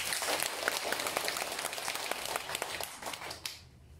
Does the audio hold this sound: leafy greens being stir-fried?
no